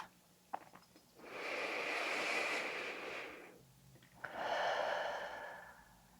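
Slow, deep breaths exhaled through the mouth during a calm yoga practice for lower back pain, two long airy exhales close up, each swelling and fading, separated by quiet.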